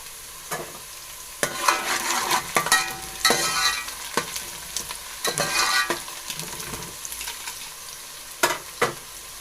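Finely chopped garlic is added to light-browned onions frying in a pan for an aloo gobi masala, giving a steady sizzle broken by repeated scraping stirs, close and fairly loud.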